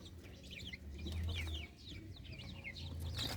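Chicks of mixed breeds, including Rhode Island, Brahma and Golden Sebright, cluck and cheep. The calls are repeated and fairly close, with high chirps scattered through the clip over a low background murmur. No one speaks.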